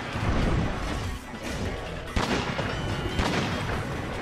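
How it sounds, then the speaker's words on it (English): Gunlance shells firing in Monster Hunter World, a run of heavy booming blasts with sharp impacts near 2.2 and 3.2 seconds over dense, continuous battle noise. "this weapon is a force to be reckoned with its ability to fire off bone-breaking shells to blast a monster"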